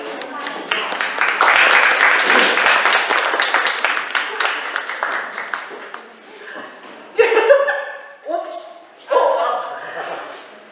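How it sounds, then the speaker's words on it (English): Applause from an audience greeting a Malaysian chef at a cooking event, rising and then tapering off, followed by bursts of speech and chuckling. "It's the first time I've been welcomed in a big clapping"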